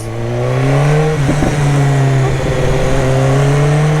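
A car in Sydney, Australia, with an upshift quick shifter and a fairly quiet exhaust, drones steadily as it revs and accelerates, with one brief dip mid-pull; the engine note stays close and loud throughout, with no talking.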